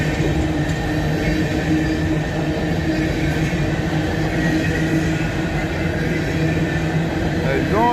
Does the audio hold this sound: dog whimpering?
no